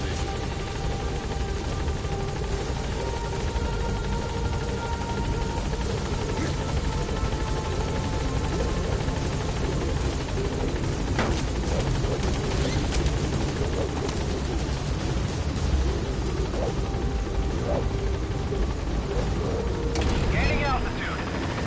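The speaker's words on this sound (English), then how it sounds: "Board the chopper when you're ready for a mission." Helicopter in Metal Gear Solid V: The Phantom Pain, a steady, loud rotor and engine drone that runs throughout under a game voice, with faint mechanical clicks layered in.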